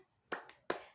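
A primary school class claps hands together in a rhythmic 'tepuk semangat' cheer, two sharp, close, fairly faint claps with a softer tap between them.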